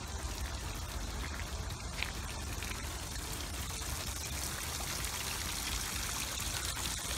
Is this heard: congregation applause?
no